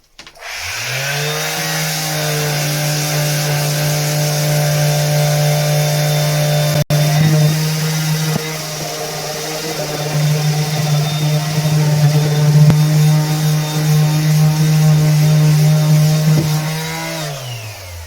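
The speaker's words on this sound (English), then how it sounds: "what you really need is more sanding" A grinder whines at a steady, loud pitch for a sustained stretch, sanding against a surface, then spins down at the end.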